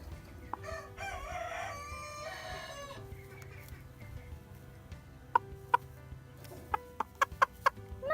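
Chickens kept in a garden with rabbits crow and cluck nearby, a drawn-out rooster call followed by a run of short sharp clucks.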